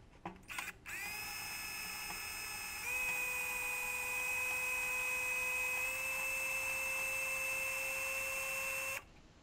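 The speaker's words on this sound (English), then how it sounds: "I clamped the patch halves in place and drilled holes through them to receive pop rivets." A drill whines steadily for several seconds as it bores rivet holes through clamped metal exhaust heat shield patches on a 1990 VW Golf Country, its pitch stepping up partway before it cuts off.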